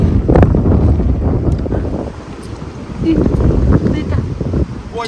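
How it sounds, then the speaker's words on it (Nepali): Strong gusting wind on a rocky coastline at Coffs Harbour, loud roaring buffets battering the microphone continuously, with faint voices partly buried beneath. "हावा डेन्जर लागेछ यार"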